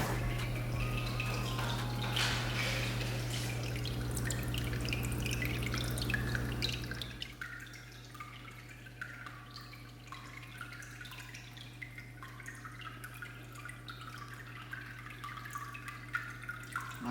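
Small waterfall trickling in a freshwater nano aquarium, a steady close dripping and splashing of water that sounds fuller at first and then settles into a quieter, even trickle under a faint hum.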